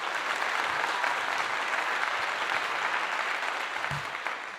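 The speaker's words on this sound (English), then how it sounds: "Come on now, round of applause for that." A church congregation applauding during a sermon, a continuous even wash of many hands clapping for several seconds, slowly easing toward the end.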